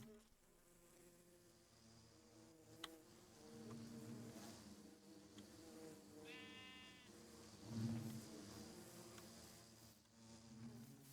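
Bees buzz softly in Minecraft, a faint, wavering drone that rises and falls over several seconds, with a few brief tonal blips and thumps nearby.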